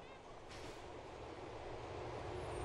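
A train in Grand Theft Auto IV gives off a steady, faint rumble of a moving rail car that slowly builds, with a brief hiss near the start and no clear speech.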